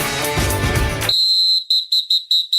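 A whistle gives a steady high tone, then a string of five or six short, loud high-pitched blasts in an even rhythm, heard alone after a burst of louder broadband noise.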